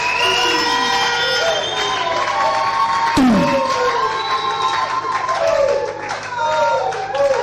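A church congregation claps and cheers loudly for several seconds, with sustained applause, scattered shouts and whoops, and bright tonal calls layered over the crowd noise, all heard up close.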